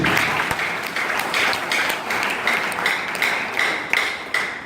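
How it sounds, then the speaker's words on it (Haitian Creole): Applause from a church congregation during a pastor's sermon, a steady wash of many hands clapping at close range, sustained and fairly loud with a few sharper claps standing out. "il y aurait bien un applaudissement de ça"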